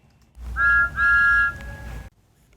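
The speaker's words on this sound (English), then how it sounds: "Just then, the guard's whistle blew." A railway guard's whistle gives two sharp shrill blasts in quick succession, loud and close, with a faint lingering tone trailing after them.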